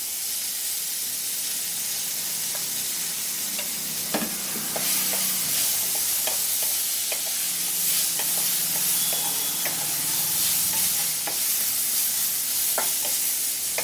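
Long green beans with dried chillies sizzle loudly in a pan while being stirred, a continuous hiss punctuated by repeated scrapes and taps of the spatula.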